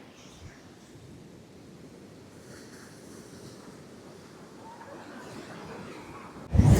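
Ocean surf washes in at a Kundapura beach in good weather, a soft, continuous wash of waves mixed with wind noise, swelling gradually before a sudden loud gust or bump at the very end.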